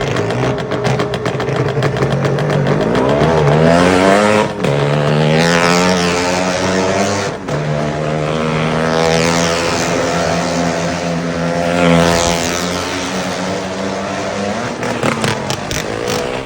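Motorbikes or cars ridden round the well of death at a fair roar loudly and continuously, their engines rising and falling in pitch as they circle the wooden wall, close and dominant.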